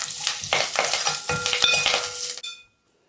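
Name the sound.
tempering with curry leaves and chillies frying in oil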